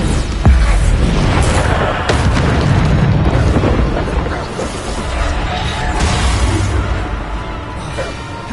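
A Bombarda spell explodes in Hogwarts Legacy, a loud, booming blast with rumbling, crashing debris that rolls on for several seconds. Smaller thuds and bursts keep sounding under the noise.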